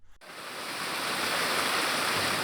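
Water seeps and flows through an underground cavern, a steady, dense rushing hiss like a stream or small waterfall that starts abruptly after a brief quiet moment and holds at moderate level throughout, with no voices.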